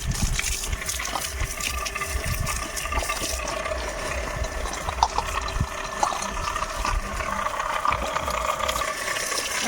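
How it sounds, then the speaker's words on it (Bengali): Water poured steadily over plant seedlings in a Sundarban village garden, a continuous close splashing and gushing with no pause and no talk. "এখন আমি এই চারায় জল দিচ্ছি"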